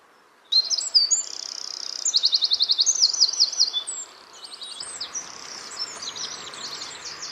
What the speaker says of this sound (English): it almost seemed instantly as if there was so much bird song